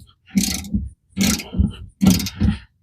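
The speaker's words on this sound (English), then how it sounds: "I will do it with a ratchet just to show you it can be done" A ratchet loosens a bolt on the rear suspension of a Ford Fiesta during a lowering-spring install: three close, even bursts of clicking, each about half a second long, with short pauses between them.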